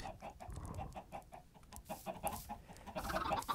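Minecraft chickens clucking in a repeated, choppy series of short calls, near and moderately loud, with no talking over them.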